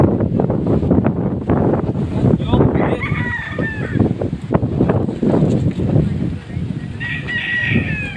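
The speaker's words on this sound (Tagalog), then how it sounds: "Sobrang lakas ng hangin." Loud typhoon wind buffets the microphone in heavy gusts in Bantayan, Kabankalan City, Negros Occidental, while a rooster crows and chickens cluck nearby; a voice speaks briefly over the roar.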